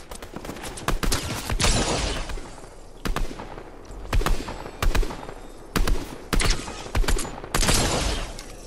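Gunfire from enemies in Fortnite Zero Build, loud bursts of rapid shots repeating in short volleys with brief gaps, close and dominant.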